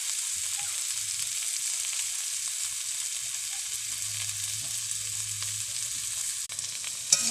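Whole bitter gourd pieces, seeds left in, frying over a low flame under a covering plate, giving a constant even sizzle and hiss throughout with no talking.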